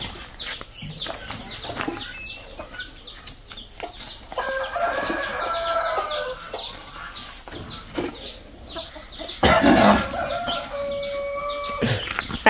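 Chickens cluck and cackle in a backyard flock, with a rooster crowing, the calls overlapping irregularly at close range over a short stretch, with no talk heard.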